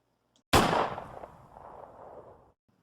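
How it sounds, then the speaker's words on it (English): A single sharp gunshot sound effect cracks loudly, then a rumbling echo decays over about two seconds in otherwise near silence. "he heard the gunshots"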